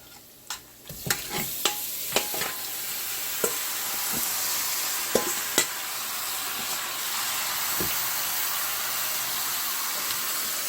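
Pork ribs sizzle and fry in dark browned sugar, a steady loud hiss of hot fat with sharp clinks and scrapes of a spoon stirring and turning the meat, no voices.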